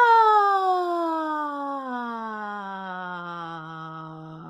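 A single voice imitates a siren during a vocal warm-up before a concert, one sustained sliding tone that glides smoothly downward from high to low, clear and fairly loud, with no other sounds.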